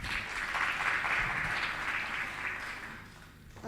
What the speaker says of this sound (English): Please give a round of applause for Emily.